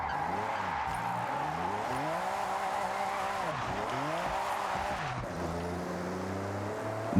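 A car drifting in Forza Horizon 6, its engine droning steadily with gear-like pitch swings while tires squeal continuously through long slides, loud and close with no talking.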